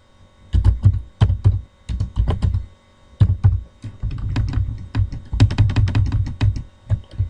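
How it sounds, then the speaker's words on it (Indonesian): Keyboard shortcuts tapped out on a computer keyboard, heard as crisp, close plastic key clicks in quick irregular bursts with short pauses between them. No one talks. "Ctrl C, Ctrl V. Ini Ctrl Shift Enter."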